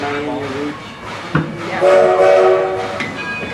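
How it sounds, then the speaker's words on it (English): Edison steam locomotive on the Wieser Railroad at Greenfield Village, with a sharp clank and then a sustained whistle-like harmonic tone, loud and close, over train rumble. "Welcome aboard the Wieser Railroad and the Edison locomotive"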